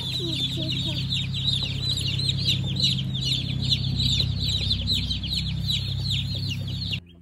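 Baby chicks gather near a watering station made from a plastic paint tray, their constant high-pitched peeping and chirping filling the space over a low background hum.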